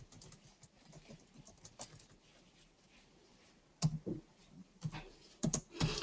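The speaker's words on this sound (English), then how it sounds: "So let me just type a few things in there." Fingers type on a computer keyboard in irregular runs of light clicks, with quieter tapping at first and sharper, denser bursts toward the end.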